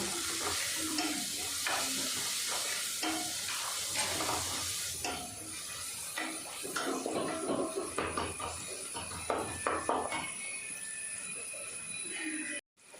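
Eggplant thoran sautés in a pan with a broad sizzle, followed by repeated spatula scrapes and clinks against the metal as the mixture is stirred, fading out at the end.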